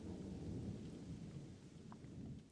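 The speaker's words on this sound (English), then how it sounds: "A rattle of thunder shook the windows as rain pattered against the glass." Steady rumbling thunder rolls under a constant hiss of rain, with a few brief higher taps of drops striking window glass.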